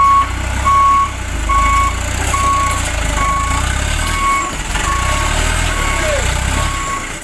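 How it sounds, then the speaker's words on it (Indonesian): A toy sand truck gives out a steady series of evenly spaced electronic reversing beeps, loud and close, over a continuous low motor hum. "Di sini ada truk pasir."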